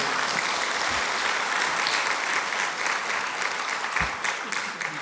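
A dense, continuous round of applause fills a church hall during a lecture's question-and-answer session, loud and even throughout with no pauses or talk.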